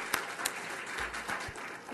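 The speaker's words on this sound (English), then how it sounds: "Please give her a round of applause." Lecture audience applauding a speaker's introduction, a short, fairly soft spatter of clapping with a few sharper individual claps standing out.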